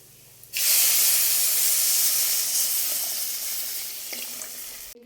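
Water poured into hot spice powders in a pan for a home-style tuna curry erupts into a loud, sudden hiss and sizzle that holds strong for several seconds, then slowly fades, with no talking.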